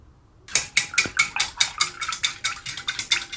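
Sodium carbonate solution for cyanotype toning is stirred in a container, giving a steady series of about a dozen quick, close scraping clinks that repeat in an even rhythm without any talk.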